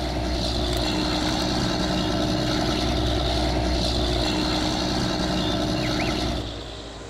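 In Farming Simulator 19, a John Deere 9R tractor engine drones steadily and loudly for several seconds, then drops off sharply at the end.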